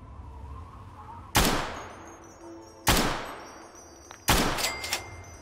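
Three sharp gunshots from enemies in Fallout: Tale of Two Wastelands, each a loud broadband crack with a decaying echo tail, spaced about a second and a half apart over a quiet ambient hum.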